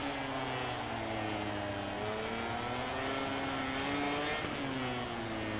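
Honda MotoGP racing bike in MotoGP 18 holding a high, steady engine whine that dips briefly and climbs again as it shifts, loud and continuous with no voices.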